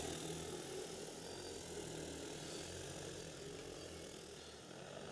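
A DJI Agras T50 spraying drone flying: a steady, unbroken propeller drone, faint and level throughout, with no speech.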